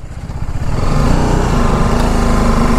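KTM motorcycle riding through sand on a trail, its engine rising from a sputtering idle into a loud, sustained high-revving buzz close by.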